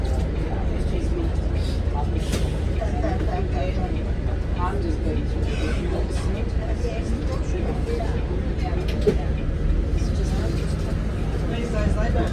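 A steady low engine rumble and road noise come from inside a crowded city bus moving through Perth on a Sunday, with people talking throughout.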